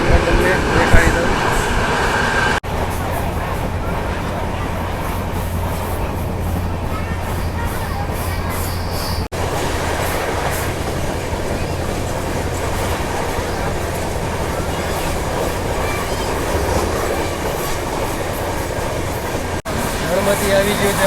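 A train rolls steadily into Chanol railway station on the Rajkot line, a loud continuous rumble of wheels and carriages with faint talk mixed in.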